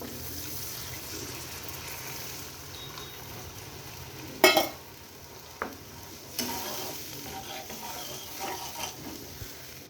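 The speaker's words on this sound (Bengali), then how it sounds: "এবার জল দিয়ে দিব।" Water pours into a pan of small fish frying with turmeric and chili powder, a burst of splashing sizzle followed by scattered stirring clatters over a low steady fry.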